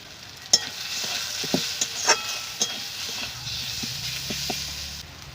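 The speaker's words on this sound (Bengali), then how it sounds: "ভালো করে মশলাটা কষিয়ে নিব" Spice masala of chilli, coriander and turmeric powders with fried onion sizzles in a pan while being stirred, with a steady hiss and several distinct spatula knocks and scrapes, close and without speech.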